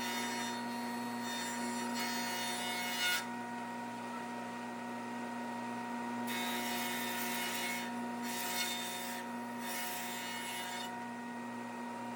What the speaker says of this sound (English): So the rabbet that's being cut on these boards is 3/8 of an inch by 3/8 of an inch.